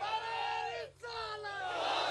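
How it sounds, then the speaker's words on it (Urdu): A crowd at a religious gathering honoring the Prophet's Companions chants slogans in unison, sustained voices rising and falling through one call, a short break, then the answering chant. "ٹھنڈے نعرے سنا رہے ہو مرید"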